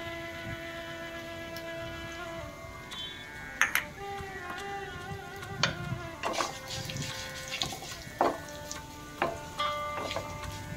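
Dried coconut roasts in a pan with a soft, steady sizzle, punctuated by scattered clicks and scrapes of stirring, while faint tonal background noise runs underneath.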